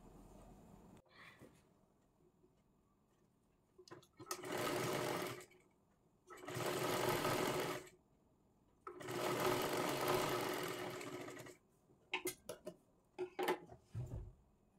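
Sewing machine stitching a baby girl's fancy frock, running in three long steady bursts separated by pauses, then short stop-start stitches near the end, close and clear in a quiet room.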